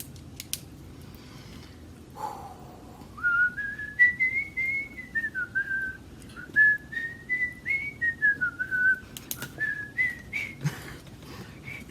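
A person whistles a wavering, sliding tune in a quiet room, several short phrases, close and fairly soft, with no talking.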